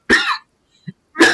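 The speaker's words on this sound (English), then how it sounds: "Sorry, excuse the coughing." A person with a cold coughs twice at close range, two sharp harsh bursts separated by a short pause with a small throat sound between them.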